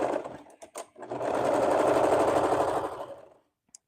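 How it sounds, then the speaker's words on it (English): A sewing machine stitches swimsuit fabric in one continuous whirring run of about two seconds, starting after a few short clicks and taps, then stopping. "I was sewing with it really high tension."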